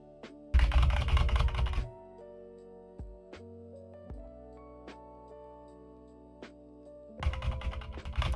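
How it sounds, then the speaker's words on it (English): Keys are struck hard on a computer keyboard in two dense, loud bursts of rapid clacking, separated by a quieter stretch with a few isolated clicks over a low hum. "You can hear when I smash the keyboard."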